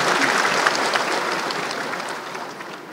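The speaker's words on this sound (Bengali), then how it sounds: "আমরা সবাই মিলে আবার হাততালি দিয়ে, জোরে হাততালি দিয়ে অভিনন্দন জানাচ্ছি" An audience at a public ceremony applauds award winners, a loud dense burst of clapping that gradually tapers off toward the end, with no talk over it.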